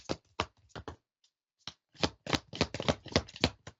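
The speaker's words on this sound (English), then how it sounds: "I'm pulling cards, so I'm just shuffling right now." Several quick bursts of tarot cards riffling and being shuffled close by, with a short pause partway, then a longer run of rapid riffles.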